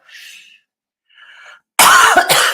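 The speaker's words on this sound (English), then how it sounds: "Still coughing because I don't smoke enough." A harsh, loud cough with two or three quick bursts, preceded by a couple of faint breathy sounds.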